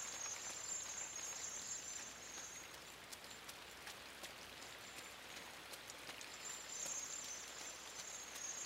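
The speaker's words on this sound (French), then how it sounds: "Le vieux bruit de la pluie qui tombe sur la gueule et sur les feuilles de maïs." Steady rain falls on corn leaves in the video game Inside, with a dense patter of drops throughout and no voices.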